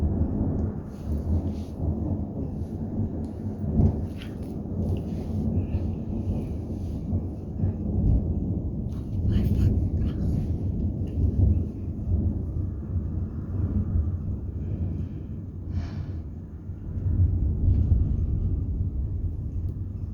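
Thunder from a lightning bolt rolls in a long, low, steady rumble that swells and fades over about twenty seconds, heavy and distant with no voices present.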